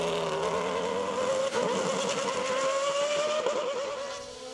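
A Norma M20 FC E2SC sports prototype race car climbing a hill course at Abreschviller, its engine screaming at high revs with rising pitch through gear changes, loud and steady, with no talk over it.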